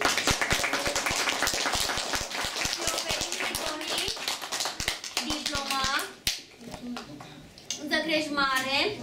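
Schoolchildren in a preparatory class at an Orthodox high school in Oradea break into quick, sharp applause, dense clapping that fades and then resumes alongside a teacher speaking and children's voices.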